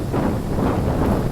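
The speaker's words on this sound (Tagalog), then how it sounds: "Parang first time kong na-experience to na malakas yung hangin." Strong wind gusting at someone's home, a loud, close, continuous roar and buffeting against the microphone with no let-up.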